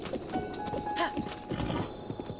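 Horse hooves clop in Zelda: Breath of the Wild, a soft, fairly quiet rhythmic patter mixed with game ambience and faint background sound.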